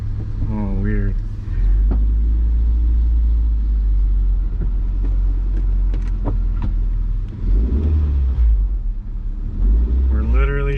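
Honda CR-V, a rebuilt low-mileage rusty example, drives with a loud steady engine rumble that rises and dips as gears are shifted, while people talk over it throughout.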